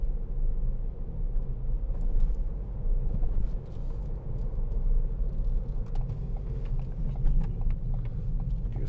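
A Ford B-Max 1.0 EcoBoost Titanium X from 2016 drives along a dual carriageway, heard from inside as a steady low engine and road rumble with light cabin clicks and no talking.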